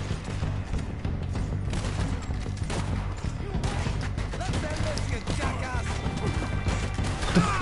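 Gunfire in Red Dead Redemption 2, with dense shots and impacts cracking continuously over a busy game soundscape while a voice speaks over part of it.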